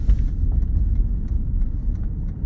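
A 2014 Aston Martin Vanquish V12 gives a deep, steady exhaust rumble from inside the cabin under light throttle, low and continuous with no talk over it.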